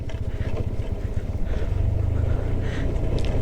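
Motorbike engine braking on a snowy winter mountain road in Spiti Valley, Himachal Pradesh: a steady low engine rumble with throbbing pulses, continuous and fairly close, with wind noise over it and no talk.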